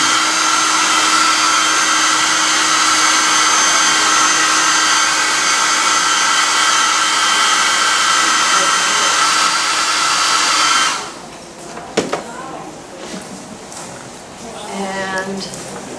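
A hair dryer blows on a wet watercolor portrait painting, with a loud, steady whooshing drone for about eleven seconds before it cuts off, followed by quieter handling sounds and faint voice at the end.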